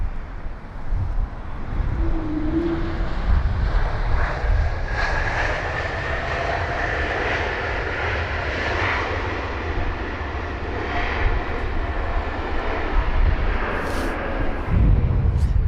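An Airbus A220 arriving at Heathrow on a windy day gives a steady, loud roar of jet engines carrying a sustained tonal howl, broad and continuous as the aircraft passes.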